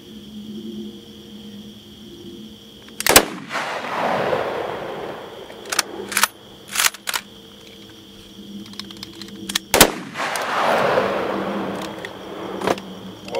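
Gunshots are fired outdoors at night, a few sharp loud cracks at intervals, each followed by a long rolling echo, with some smaller clicks and knocks in between.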